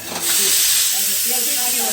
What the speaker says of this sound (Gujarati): એ વઘારની ધબાધબી ચાલુ થઈ જાય